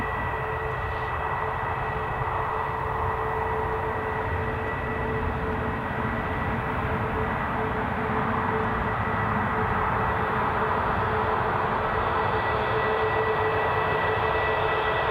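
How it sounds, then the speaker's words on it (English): EasyJet Airbus A320 airliner departing during reverse operations at Newcastle International Airport, a steady, continuous broadband jet roar with a faint tonal whine, heard from a distance and holding level throughout, with no talk. "So we should get some good sound off this, being reverse ops. Not that A320s really make an awful lot of racket."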